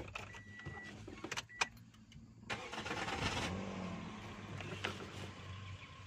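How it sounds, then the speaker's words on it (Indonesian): A neglected 2012 Toyota Vios Limo's starter cranks with an odd, uneven sound, then the engine catches and settles into a running idle, heard close with faint clicks and jangles beforehand. "Tuh suara starternya juga agak aneh ya."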